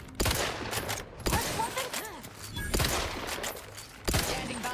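Gunfire in the video game The Outer Worlds 2 comes as four loud bursts of shots, spaced about a second apart, with clattering effects between them and faint game voices underneath.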